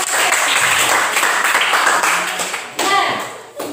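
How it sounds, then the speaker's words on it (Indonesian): Children clap their hands together in a dense, lively burst of applause, close and fairly loud, fading out after a few seconds with a brief voice near the end. "Oke, berikan tepuk tangan untuk"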